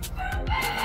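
A rooster crows close by in a short burst, loud and clear with no talking over it.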